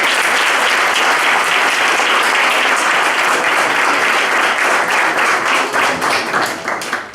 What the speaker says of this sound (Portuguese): salva de palmas